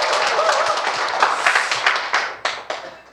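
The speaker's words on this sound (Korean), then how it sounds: "박수 한번 주시겠습니까?" Lecture audience applause, a full burst of clapping that thins into a few isolated, sharp claps near the end, moderately loud.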